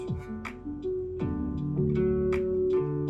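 Plucked guitar notes ring out alone, a root, then a third above, and back down to the root, each sustaining clearly into the next.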